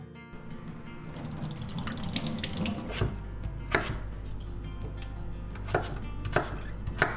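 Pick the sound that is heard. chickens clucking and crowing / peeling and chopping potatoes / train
peeling and chopping potatoes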